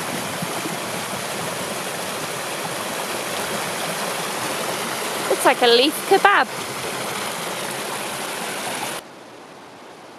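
A flooded river rushes fast past logs with a constant loud roar of churning water, while a person speaks briefly partway through before the sound drops off near the end.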